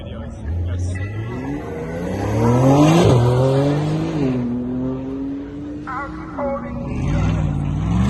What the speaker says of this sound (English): We have a Taycan Turbo on the runway. It's pure electric.